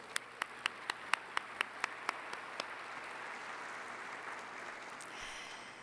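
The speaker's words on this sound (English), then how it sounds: "another big round of applause," Applause from the audience at the World Forestry Congress ceremony: about ten sharp, evenly spaced claps stand out over a soft background wash, then fade into low murmuring.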